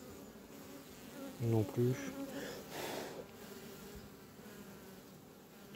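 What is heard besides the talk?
honeybees buzzing around a beehive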